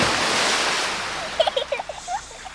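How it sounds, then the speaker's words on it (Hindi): A drum tumbles into a flowing river: a rushing wash of water followed by a quick run of bubbling, gurgling splashes, fairly close and heard on its own. "ड्रम मशीनी लाल को लेकर लुढ़कता हुआ आगे बढ़ने लगा और सीधा जाकर एक नदी में गिर पड़ा।"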